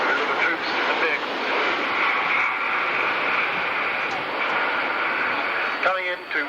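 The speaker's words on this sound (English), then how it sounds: "Maneuverability of this huge airplane, 50-ton airplane, the Hercules" Lockheed Hercules 50-ton transport airplane making a tight approach for a short tactical landing at the 1995 Woodford Airshow, a steady broad engine drone filling the clip with a public-address commentator talking over it throughout.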